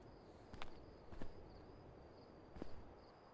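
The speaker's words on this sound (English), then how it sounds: "I hear the footsteps around me" Footsteps in the Sirenhead Awakening horror game, three soft, spaced steps over a faint hissing night ambience with a thin insect-like whine, quiet and somewhat distant.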